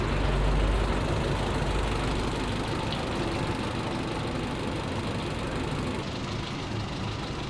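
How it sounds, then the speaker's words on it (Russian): A Yamaha F70A outboard motor idles steadily and close, a dense, even mechanical rumble with no change in pace throughout. "Во всех режимах двигатель работает нормально."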